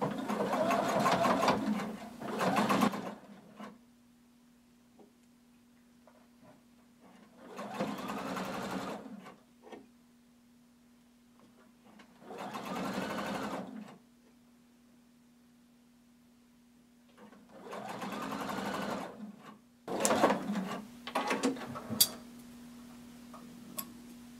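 A sewing machine stitches close to the edge of a hooded tunic in several separate bursts of a few seconds each, with quiet gaps and a faint steady hum between runs.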